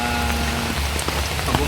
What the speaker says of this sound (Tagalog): Yan, nakikita nyo, umuulan.